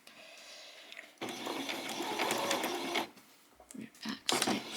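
Sewing machine backstitching the seam of a doll's peasant top, a steady close mechanical whir for a couple of seconds that breaks into short stop-start bursts.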